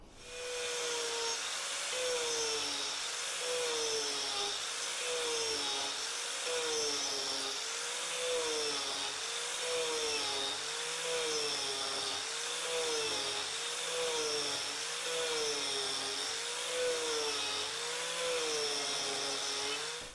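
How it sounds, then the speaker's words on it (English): An Arbortech TURBOPlane power carving blade hollows out a wooden bowl, giving a loud continuous high-pitched whine that rises and falls in a steady wavering rhythm as the blade is rotated into the wood. "you can hollow out exactly the diameter of that blade by putting it in and rotating it as you bring it in"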